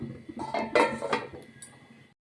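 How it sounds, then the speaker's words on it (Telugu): A metal lid set down on a cooking pot of ridge gourd curry after water is added, giving a few close clinks and a soft clatter of cookware over about two seconds with no talking. "మూత పెట్టుకుందాం."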